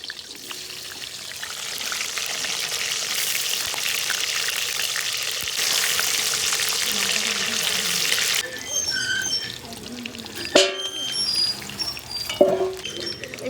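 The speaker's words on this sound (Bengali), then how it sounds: "এখানে মাংসের জন্য দিয়ে দিচ্ছি কড়াইতে আলু।" Potatoes fry in hot oil in a kadai for a meat curry, giving a steady, close sizzle with no talk. Near the end come a few sharper clatters and stirring knocks.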